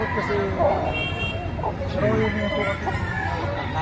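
A rooster or chicken clucks amid busy crowd noise and overlapping voices at a poultry sale where people haggle over prices, the bird calls short and intermittent under the chatter.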